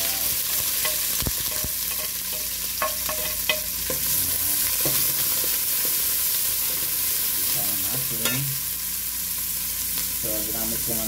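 Ginger sizzles in hot reused adobo cooking oil, a steady bright frying hiss with clinks and scrapes of a spoon stirring in the pan throughout, close and continuous.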